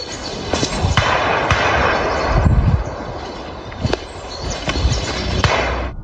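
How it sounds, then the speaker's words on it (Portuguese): Several sharp gunshots ring out one after another in a forest, each trailing off into a rumbling echo over a steady outdoor background. "Capturado claramente no áudio estavam os sons de tiros ecoando pela floresta"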